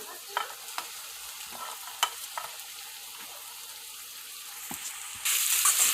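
Shredded cabbage stir-fried in oil for schezwan fried rice, a soft continuous sizzle broken by light scraping stirs and taps of a spoon, then the hiss swells louder near the end, with no voices.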